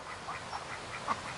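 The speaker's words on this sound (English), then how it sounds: "and then of course you can hear a quack." Cayuga ducks on a farm give a series of soft, evenly spaced quacks, fairly faint and unaccompanied by talk.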